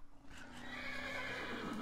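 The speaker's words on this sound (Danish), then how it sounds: "Er det der en hest, jeg lige ser der?" A horse whinnies in Minecraft, a loud, drawn-out neigh over faint clip-clop hooves, sounding alone without any talking.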